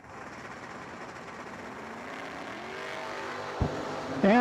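Door-car drag race between a Pontiac Sunbird and a Camaro, with engine noise building steadily and then a sharp, loud burst near the end.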